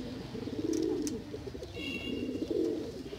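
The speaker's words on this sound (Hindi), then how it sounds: "सियालकोटी कबूतर है दोस्तों," A Sialkoti pigeon coos softly and close by in low, rolling murmurs, faint over quiet background sounds with a brief chirp from another bird.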